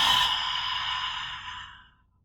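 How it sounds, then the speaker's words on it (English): A single loud exhale, air pushed forcefully out through the mouth in a long breathy sigh that starts strong and fades away over about two seconds, heard up close and alone. "I want you to start with an exhale. Push all of the air out through your mouth."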